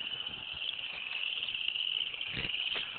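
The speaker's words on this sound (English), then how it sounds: "That's the random-ass frog song of the Ackworth, Georgia Creek. Listen to their majestic mating call." Frogs in a polluted creek swamp in Acworth, Georgia, call in a dense, continuous high-pitched mating chorus that stays loud and steady throughout.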